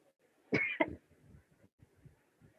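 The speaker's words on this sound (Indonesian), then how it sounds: "Batuk." A single close cough, a harsh double burst, followed by faint quiet rustling and small movement sounds.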